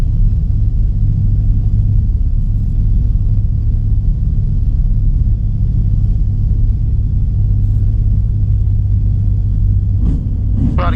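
A Sonex light aircraft's engine drones steadily at low pitch while rolling out on the runway after landing, a loud, constant rumble close to the cockpit with a brief clatter near the end.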